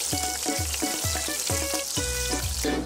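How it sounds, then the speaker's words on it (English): Chicken sizzles and crackles as it fries in hot oil, with repeated bubbling bursts and a steady frying hiss throughout. "I'm frying the chicken now"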